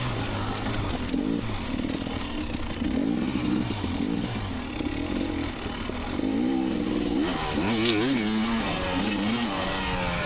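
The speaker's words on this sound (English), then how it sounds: "I'm up here on the 2019 KTM250xc, my woods bike, my weapon of choice for the trees." A 2019 KTM 250 XC two-stroke dirt bike ridden along a wooded trail, its engine buzzing loud and close throughout with repeated rising and falling revs as the rider works the throttle.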